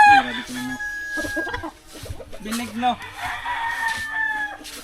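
Several roosters crow one after another, their calls overlapping with clucking nearby, while someone briefly speaks.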